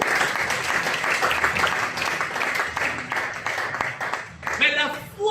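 A church congregation applauds to acclaim the Lord, a dense, continuous burst of many hands clapping that fills the room. Near the end the clapping thins and a voice starts speaking.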